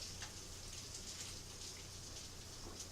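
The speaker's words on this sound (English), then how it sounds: "y'all hear the rain in the background" Steady, soft rain patters continuously, a faint even hiss with occasional distinct drops.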